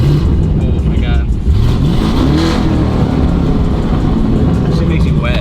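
Car engine revving, loud and close, with a steady roar that rises and falls in pitch over several seconds while people talk and shout over it.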